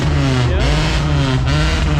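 A stock GT muscle car revs its engine at an outdoor Fourth of July weekend car meet, a loud, steady, close engine roar with slight pitch swells throughout.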